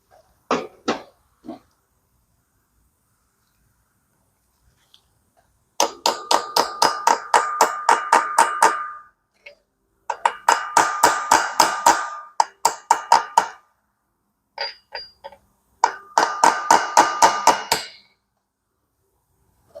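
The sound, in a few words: socket tapped to install clutch pilot bearing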